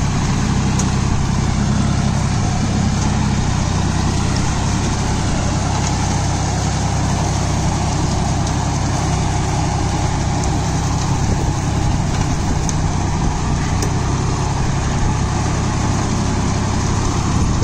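A John Deere 5045D 4WD tractor engine, with 4700 hours of running, drones steadily and loudly throughout while puddling a field, a constant heavy rumble with no breaks and no talking.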